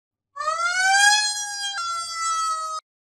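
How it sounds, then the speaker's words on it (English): An ambulance siren arrives at a hospital: a loud, close, steady electronic wail that rises in pitch, then jumps to a higher held tone and cuts off abruptly after about two and a half seconds, with no other sound around it. "The ambulance arrives at the hospital."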